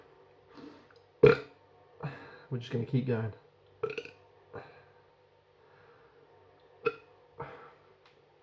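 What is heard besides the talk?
burps after drinking La Trappe bock beer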